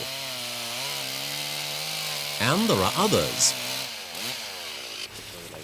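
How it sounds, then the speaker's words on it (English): A chainsaw in the Sulawesi jungle during the 1988 Camel Trophy drones steadily with a rough, buzzing engine tone throughout while someone talks over it. "The chainsaw will prove to be an indispensable tool."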